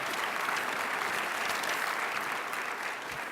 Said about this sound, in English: You're applauding for the prayer